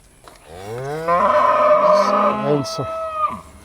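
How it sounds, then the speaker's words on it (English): A cow gives a long, loud, close moo that swells and then trails off, with other cattle being let through a paddock lane into a new pasture. "we're going to go open up a paddock lane and let the cows go in there"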